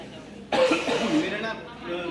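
A person at a seminar coughs sharply once from a dry throat, a sudden loud burst that trails into rough, breathy throat sounds close to the mic.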